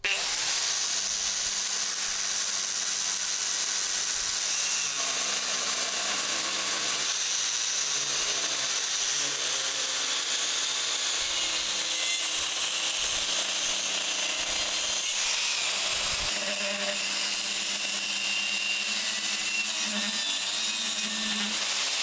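A Skilsaw 5765 circular saw cuts through solid wood with a continuous high, rasping whine that stays loud and steady for the whole stretch, its tone shifting slightly as the cut advances.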